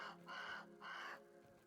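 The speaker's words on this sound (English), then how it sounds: "There's a crow." Two loud, close, drawn-out caws from a crow in the video game Grounded, each lasting about a third of a second, followed by a fainter trailing call, with no talking.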